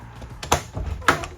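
Two sharp clicks and thuds about half a second apart as the door of the fridge in a 2026 Forest River Flagstaff Classic 826MBR RV is opened, close and fairly crisp with no talking.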